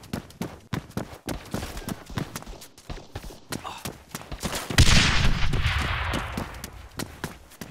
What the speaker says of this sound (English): What the fuck is all this gunshots I'm hearing?